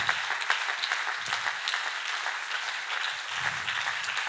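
A church congregation applauding, a steady wash of many hands clapping, moderately loud and continuous, with faint voices underneath.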